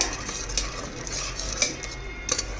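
A spoon scrapes and clinks against a pan while frying masala with coriander powder is stirred, giving several light, irregular taps over a faint background sizzle.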